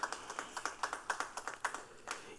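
A small group claps in a steady, sparse patter at an awards ceremony, unbroken by talk.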